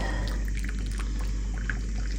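Hot water poured in a steady, continuous stream, close and fairly loud, for a couple of seconds without talk.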